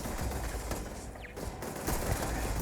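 Automated turret gunfire in a Starfield firefight: steady, fairly quiet rapid fire rattling continuously, with a brief mechanical whir midway, in a busy sci-fi combat mix.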